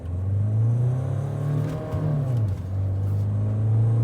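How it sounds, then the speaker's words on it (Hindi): A Mahindra Thar Roxx with manual transmission accelerates at full throttle from around 80 km/h, its engine giving a loud, close, sustained drone whose pitch holds, dips briefly and then climbs again, with no talk. "गाड़ी पहुंच गई 80 की स्पीड पे और पूरा पेडल मैंने दबा दिया"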